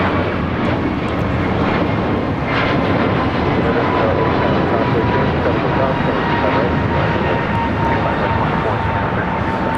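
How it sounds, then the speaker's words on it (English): An American Airlines Airbus A321neo jet takes off at LAX, its engine roar loud and steady throughout, with voices talking faintly underneath. "This is American Airlines 591 taking off to Washington Reagan National on an A321neo."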